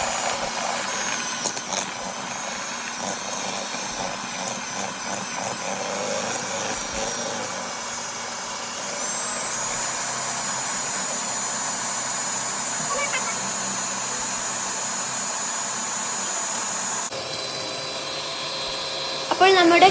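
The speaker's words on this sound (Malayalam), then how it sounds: "നല്ല ഫ്ലഫി ആവുന്നത് വരെ ബീറ്റ് ചെയ്യണം കേട്ടോ." An electric mixer whips cream until fluffy for a cake, a steady loud motor whir running continuously throughout with no talking.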